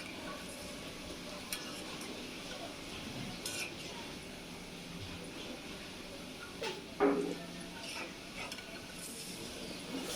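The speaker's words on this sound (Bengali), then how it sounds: "এভাবে আমি সবগুলো পাকোড়া ভালোভাবে ভেজে নিব। এক পাশ হয়ে গেলে আমি পাকোড়াগুলো উল্টিয়ে দিব।" Pumpkin pakoras fry in a pan with a steady soft sizzle, broken by a few brief clinks and scrapes as pieces are turned over midway.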